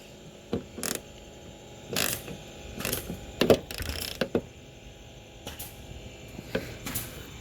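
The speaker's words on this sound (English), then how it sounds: "So now that they're both in, I'm going to tighten them up." Bolts on the liftgate support struts of a 2003-09 Toyota 4Runner are tightened by hand with a ratchet, giving sparse, irregular metallic clicks and short bursts of ratcheting, fairly quiet with pauses between.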